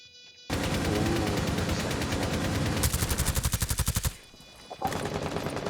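Rapid automatic gunfire in a Rainbow Six Siege esports match, loud and dense bursts with a stretch of distinct evenly spaced shots, then a brief pause before more firing resumes.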